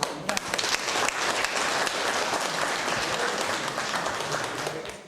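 Applause from the audience at a city council session awarding scholarships, a dense, steady round of clapping that fills the room for the full stretch and fades slightly at the end.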